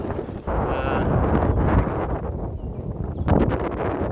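Strong wind blowing across a microphone at a high outdoor spot, a continuous loud roaring rush with gusts swelling and easing, no voices.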